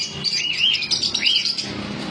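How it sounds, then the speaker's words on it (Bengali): Lutino Fischer's lovebirds chirp close by in a quick, high-pitched stream of sharp tweets and trills, lively and continuous over faint background noise. "Lutino fisher speed, lutino fisher black eye, lutino fisher black eye পেয়ে যাবেন 1100 টাকা পেয়ার।"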